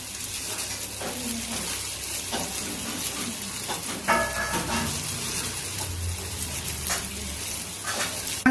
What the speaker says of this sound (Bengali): তার সঙ্গে টমেটো কুচোটাও দিয়ে দিলাম, দিয়ে ভালো করে একটু ফ্রাই করে নিলাম।